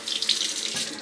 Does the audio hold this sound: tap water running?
yes